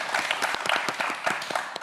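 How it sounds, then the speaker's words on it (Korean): A studio audience at a Korean TV science quiz show applauds steadily, with dense, even clapping from many hands throughout the short stretch and no voices on top. "큰 박수 부탁드립니다"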